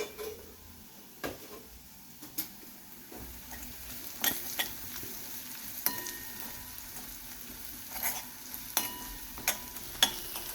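Onion and garlic fry with chilli powder and green chilli while a spoon stirs them, making a continuous soft sizzle broken by repeated clicks and scrapes against the pan, close and with no voices.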